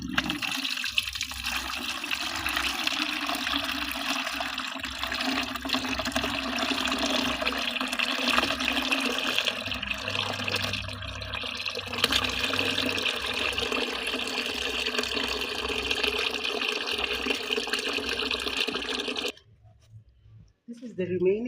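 Water poured through a sieve outdoors in a city garden, a steady splashing trickle that runs for most of the stretch and then stops abruptly near the end, with a person's voice faintly in the background.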